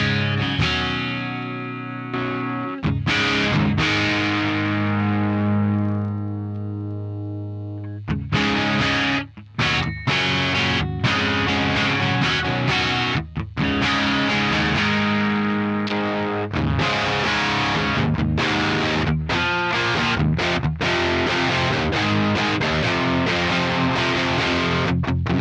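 Electric guitar through an Axe Fx III Marshall JMT45 amp model with an overdrive pedal, loud and distorted, opening with a sustained ringing chord that decays, then dense chugging riffs with sharp palm-muted stops and chords, no speech.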